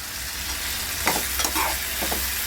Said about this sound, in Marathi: आपल्या घरामध्ये असतो कढीपत्ता त्याला भाजून घेऊया आपण